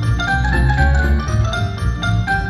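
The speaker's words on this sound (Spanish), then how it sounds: "obviamente no podía estar de fondo la musiquita del Mario Bros." Upbeat Super Mario Bros. background music plays steadily, a bright melody over a bouncing bass line, fairly loud with no talking.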